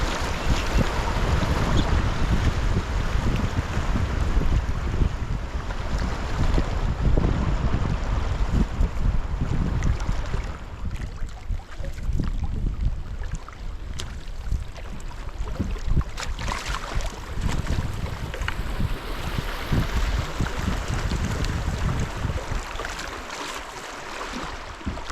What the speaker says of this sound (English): Well, this river is just screaming along.